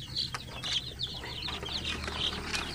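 Chickens on a small farm cluck in quick, sharp repeated calls with a brief flutter of wings, close and moderately loud, with no talking.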